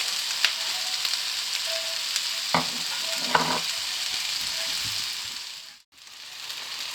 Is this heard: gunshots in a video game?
no